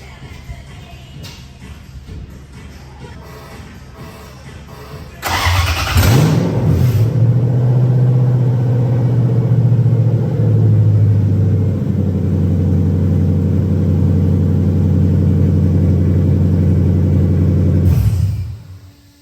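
Volvo 245 sleeper with a swapped-in V8 and no exhaust fitted fires up after quiet garage shuffling, then settles into a loud, steady, raw rumbling idle that holds for about twelve seconds before cutting off abruptly.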